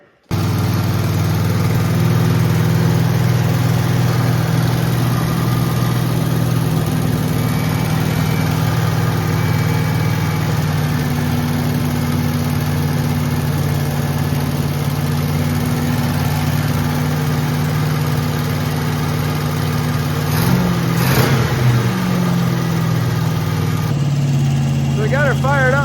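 An El Camino engine, freshly installed, turns over and settles into a steady, rumbling idle that runs loudly and close for the whole stretch, with a brief rise near the end.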